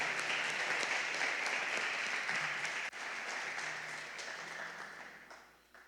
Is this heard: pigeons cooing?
no